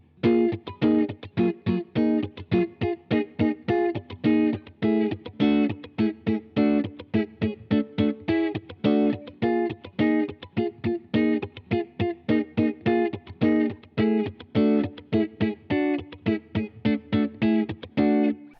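Electric guitar rhythm chords played with effects in a brisk, choppy rhythm, short strums repeating steadily with tight muted gaps between them.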